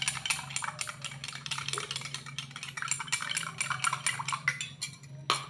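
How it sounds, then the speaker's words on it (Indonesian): A spoon stirs an herbal cough remedy mixed with hot water in a glass, clinking quickly and steadily against the glass for several seconds, close and fairly loud, under a low background hum. "Lalu kita aduk."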